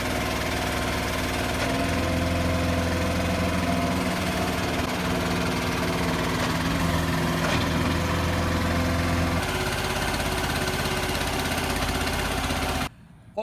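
A hydraulic post hole borer's engine runs steadily on a trailer, a loud continuous mid-pitched drone with a slight shift in tone partway through, cutting off abruptly near the end.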